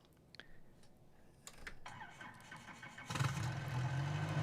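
In Microsoft Flight Simulator, a Bell 47G helicopter starts up: first a few soft switch clicks, then the engine cranks and catches with a sudden louder rumble that builds and holds.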